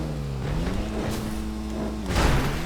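Nagasaki Outlaw off-road car in GTA Online, its engine droning steadily with a rising, shifting pitch and a brief rev surge near the end, close and continuous without talk.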